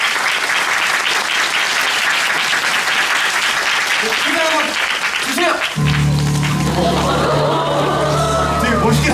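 A theater audience applauds loudly after a stage performance, with dense clapping mixed with crowd noise. After about six seconds the clapping thins and a steady low hum and some voices come through beneath it.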